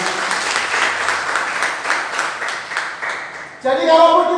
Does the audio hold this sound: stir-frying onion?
no